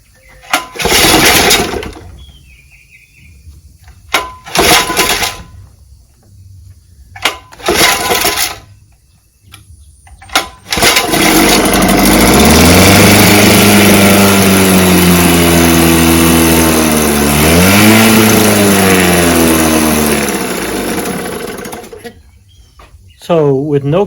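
Evinrude 5.5 outboard motor with a freshly tuned carburetor, heard first in short bursts between pauses, then running steadily and loud for about twelve seconds with its pitch rising and falling under throttle before it fades out.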